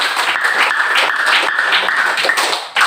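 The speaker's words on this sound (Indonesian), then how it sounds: "Beri tepuk tangan." Pupils in a school classroom clap their hands together in a loud, dense burst of applause that continues steadily for nearly three seconds, then dips briefly at the end.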